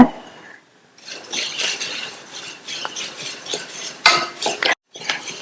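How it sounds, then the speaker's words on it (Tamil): Black and white sesame seeds roast in a pan over a medium flame while a spoon stirs and scrapes them, producing loud, close rattling and clinking in uneven bursts with brief pauses. "மீடியம் ஃப்ளேம்ல வச்சு இந்த எள்ளை கைவிடாம வறுத்துட்டே இருங்க"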